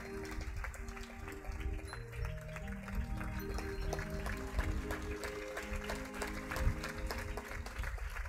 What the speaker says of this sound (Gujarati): મુક્તો તાળીઓથી વધાવીશું.